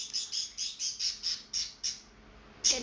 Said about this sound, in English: my parrots are so annoying, man.